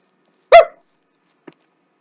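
A single short, sharp bark rings out close by, followed by a faint brief huff, then silence.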